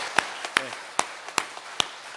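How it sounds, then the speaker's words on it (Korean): A few scattered, sharp hand claps ring out in a church sanctuary during a Korean worship service. The claps are sparse and fairly faint, spaced irregularly with quiet gaps between them. "우리 다시 한번 우리의 찬양 가운데 임하신 하나님께 큰 박수로 영광 돌려드립시다."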